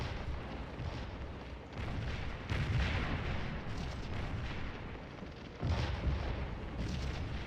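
Artillery cannon fire in the Scourge of War Civil War strategy game, CSA forces near Savage's Station, heard as a dense, continuous rumble of booming shots with louder swells around the third and sixth seconds, no talk.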